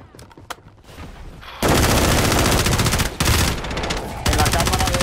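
Dense bursts of automatic gunfire from a Call of Duty match, rapid and loud, with shorter scattered shots at first, then sustained fire filling most of the stretch, broken by a couple of brief pauses.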